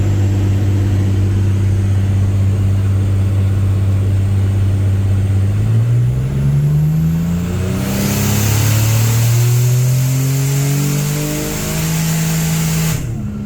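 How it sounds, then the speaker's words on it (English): Porsche 993 Turbo engine with a high-flow X-pipe exhaust, a loud deep steady idle that rises into several strong revs and then falls back, close and alone. "We'll clear the path with our amazing sounding high-flow X-Pipe"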